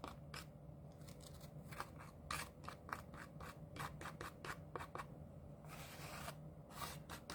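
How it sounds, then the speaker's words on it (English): Excess material is gently scraped off a piece of artwork in quiet, rhythmic short strokes. The soft rasping scrapes repeat over a low steady hum. "you can just kind of gently go through and scrape it"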